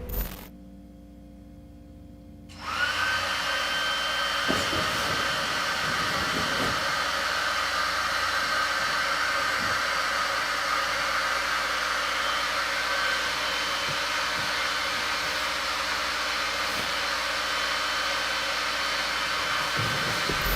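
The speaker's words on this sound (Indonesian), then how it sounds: "Suara hair dryer yang tadinya sudah mati kembali nyala dengan suara yang lebih keras" A hair dryer in a hotel room roars loudly and continuously after a brief quieter pause at the start, with a few faint knocks and clicks beneath the steady whine.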